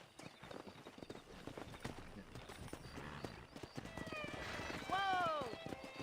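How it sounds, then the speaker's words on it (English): In the Red Dead Redemption video game, horses gallop with rapid clip-clop hoofbeats under game dialogue, building toward a sharp, loud whinny near the end, with quieter soft speech throughout. "let's see if we can't wrangle some horses."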